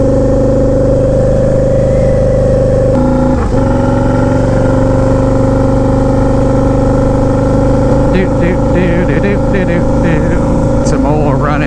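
A turbocharged Harley-Davidson V-Rod engine idles while warming up, giving a loud, steady, low rumble with a brief dip partway through. Someone talks over it.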